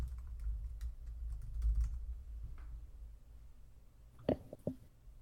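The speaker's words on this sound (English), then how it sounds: "Typing." Typing on a computer keyboard, a steady patter of quiet key taps with a couple of louder, sharper strikes near the end, alone with no talk over it.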